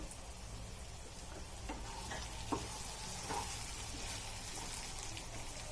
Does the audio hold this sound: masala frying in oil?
yes